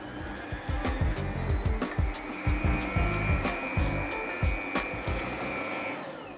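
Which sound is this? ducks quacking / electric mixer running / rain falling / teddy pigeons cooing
electric mixer running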